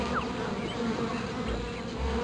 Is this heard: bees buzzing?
yes